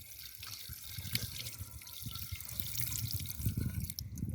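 Buckets of water poured into a water pump to prime it, giving steady splashing, gurgling and dripping that builds slightly toward the end, close by with no talking.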